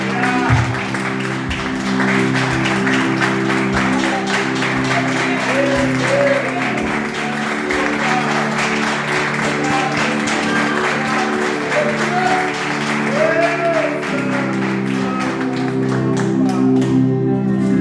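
A church congregation claps steadily and at length, accompanied by a sustained organ or keyboard chord that runs underneath the applause.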